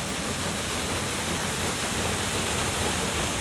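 The Huk waterfall in Tatariv village, a cascade dropping about 15 metres, gives off a dense, steady roar of falling water that is close and unbroken throughout, with no voices.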